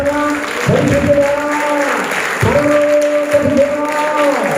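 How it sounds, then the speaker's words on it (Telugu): A church congregation claps hands in praise during a worship service. Loud bursts of clapping rise and fall over sustained musical tones that ring underneath. "అమ్మా గట్టిగా దేవునికి చప్పట్లు కొట్టి దేవునికి స్తోత్రం చెల్లిస్తారా?"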